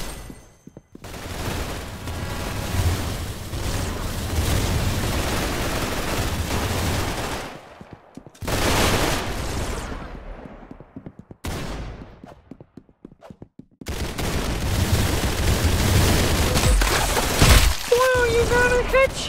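Bursts of rapid gunfire in the video game Arsenal, loud dense volleys separated by short silent gaps, with a voice briefly heard near the end.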